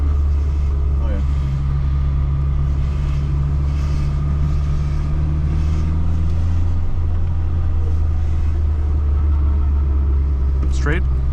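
A 1974 VAZ 2103 Lada 1500 drives in second gear, its low engine drone and road rumble steady and close throughout, with a brief rattle near the end and people talking inside the cabin.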